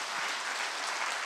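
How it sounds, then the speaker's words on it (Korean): Church congregation clapping in a steady, dense wash of applause that fills the room at a New Year blessing service, with no voices standing out. "우리 하나님께 영광의 박수 올리시겠습니다."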